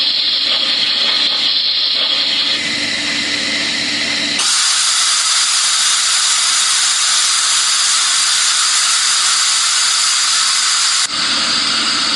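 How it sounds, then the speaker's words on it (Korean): An electric rice cooker cooking white rice vents steam in a loud, continuous high hiss, which swells abruptly into a harsher, louder rush for several seconds before easing back. "증기 배출이 시작됩니다."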